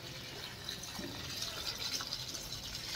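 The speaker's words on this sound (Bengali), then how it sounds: "চলো ফুল গাছের ভালো করে জল দিয়ে দিই" Water splashes and trickles steadily over flower plants, a soft continuous pouring with light spattering, fairly faint and even throughout.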